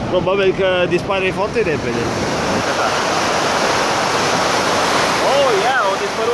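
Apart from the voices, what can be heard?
fast-flowing water at an automatic dam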